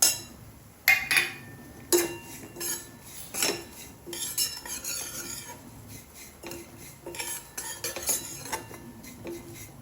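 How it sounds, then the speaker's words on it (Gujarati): Prasad ingredients roasting slowly in a pan over a low flame, with a metal spoon scraping and clinking against the pan in irregular strokes, close and moderately loud, with no voices. "હવે એને મસ્ત ધીમા તાપે આપણે શેકીશું, ક્રિસ્પી થાય ત્યાં સુધી"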